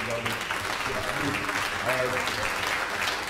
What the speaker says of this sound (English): please give them a round of applause again for me